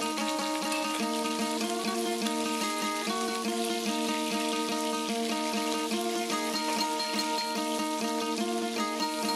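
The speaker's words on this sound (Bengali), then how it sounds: "এরপর ভেজে নেব মাছগুলো।" Fish sizzles and crackles steadily in hot mustard oil in a home kitchen, a constant spitting fry beneath continuous background music.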